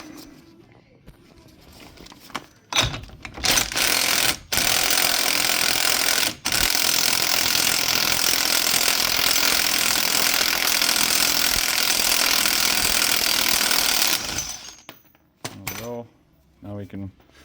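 Power tool spinning off a 36 mm axle nut on a Chevrolet Impala during wheel bearing removal: a loud, steady mechanical whir lasting about eleven seconds, framed by a few sharp impacts and clanks before and after.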